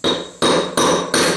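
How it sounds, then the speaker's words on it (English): Four sharp metal hammer blows on a punch driving out a wheel bearing bushing on an Ariens/Husqvarna mower, evenly spaced, close and loud, each ringing briefly before the next strike. "Just get in there with a chisel or a punch or whatever you have, catch the edge of the bushing on the other side."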